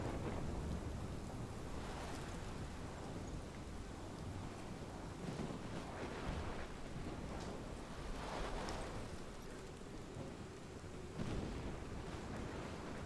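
Thunderstorm in the video game Life is Strange: steady heavy rain hisses throughout while low thunder rumbles roll in and out, with sharper cracks near the two-, eight- and eleven-second marks, loud and continuous with no talk.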